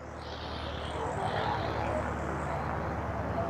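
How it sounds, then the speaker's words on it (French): A light aircraft engine running up at Lausanne airfield, a steady propeller drone that swells slightly louder over a few seconds, heard from nearby outdoors. "Ça démarre des avions."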